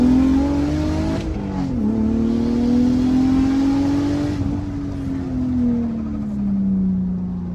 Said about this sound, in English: I know y'all want to see some turbo E46 action,